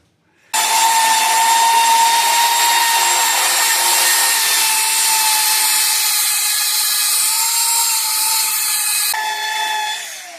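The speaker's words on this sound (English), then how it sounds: "Let's get the sander and kind of even these things out," A power sander smooths freshly cut wooden pieces for a freestyle motocross ramp, starting abruptly and running as a loud, continuous whine at close range for about ten seconds before briefly shifting pitch and winding down.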